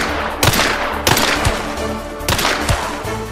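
Gunfire in the video game Hunt: Showdown: three loud, sharp shots spaced about a second apart, each a close crack followed by a short echoing tail.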